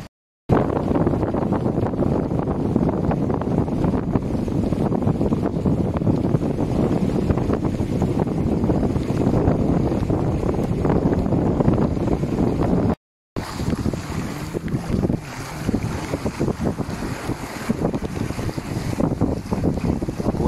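A sailboat runs fast through open sea off the south coast of France, with steady loud rushing wind and water noise buffeting the microphone throughout, a brief dropout midway, and no talking.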